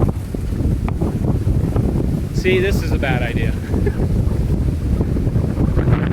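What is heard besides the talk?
heavy gusts of wind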